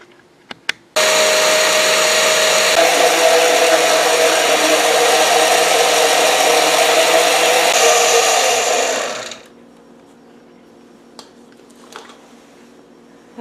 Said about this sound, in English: blend this up, and then I'll come back.